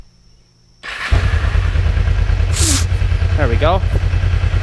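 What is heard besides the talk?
Kawasaki 454 LTD motorcycle engine starting up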